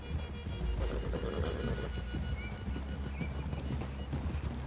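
Horses in a western video game clop along steadily at close range, hooves beating in a continuous rhythm, with a whinny rising above the hoofbeats partway through and a soft wash of ambient outdoor sound beneath.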